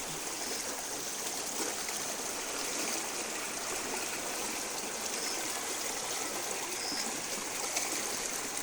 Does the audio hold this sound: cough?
no